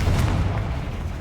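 A Confringo fire spell explodes in Hogwarts Legacy, a dense low boom with a rumbling tail that stays loud through the clip and slowly eases off.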